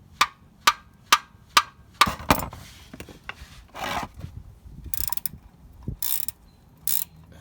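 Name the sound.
socket wrench with long extension loosening a car's oil drain plug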